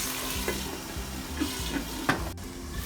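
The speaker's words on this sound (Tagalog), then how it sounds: "Isigasa lang po muna natin ang ating chicken breast" Chicken breast sautéing in a pan for pancit canton guisado: a steady soft sizzle runs throughout, with a few faint utensil clinks and stirring scrapes, fairly close and with no talk.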